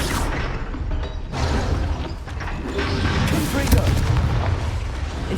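An Incendio fire spell is cast in the Hogwarts Legacy video game: a dense, booming whoosh of magical flame with rumbling low-end bursts and crackle, loud and close, while a voice speaks over the effects.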